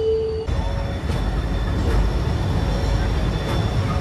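A train at a platform in Madurai Junction station makes a loud, continuous low rumble and drone, with faint rail clanks and distant station noise in the background.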